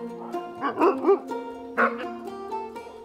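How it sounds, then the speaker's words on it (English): Huskies at a winter sled-ride camp bark and yip close by, several short excited barks over a sustained whining, howling tone. "the tourists arrive and the sled rides begin, as the huskies take them off deep into a winter wonderland"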